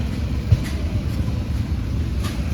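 An International hit-and-miss engine runs steadily nearby with a low, rumbling, chugging beat and no talk over it.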